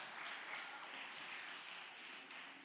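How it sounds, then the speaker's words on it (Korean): Church congregation at a family Sunday worship service claps in congratulation and encouragement, a soft, steady wash of many hands that sounds somewhat distant. "우리 축하 격려 박수로 하겠습니다."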